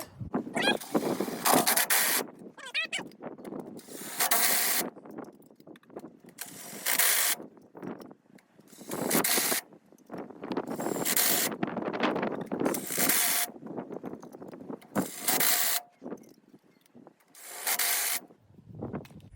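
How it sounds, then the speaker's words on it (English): A ratchet tightens lug nuts back onto a car wheel fitted with 2-inch wheel spacers, heard as repeated bursts of close, loud clicking and rubbing separated by short pauses, with no talking. "let's get these lugs back on"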